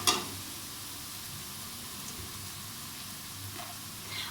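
Sliced okra, or lady finger, fries for crispy kurkuri bhindi in hot oil, giving a steady, soft, even sizzle that hisses on without a break after a brief initial splash.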